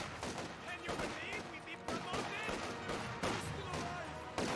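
Squads trade dense gunfire in a Company of Heroes 2 battle against Volksgrenadiers, a steady crackle of rifle and machine-gun bursts with repeated sharp shots throughout, and a voice talking over the action.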